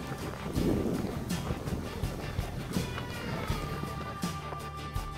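Gusty wind blows outdoors beside a park in Finland on a cold day, a steady rumbling buffet with a louder gust early on, continuous and moderately loud with no talking.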